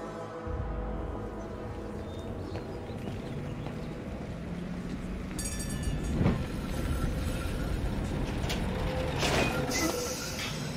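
A tram rolls on rails in Syberia: The World Before, a steady low rumble with faint clanks and a brief louder thump midway, continuous and fairly close with no talk.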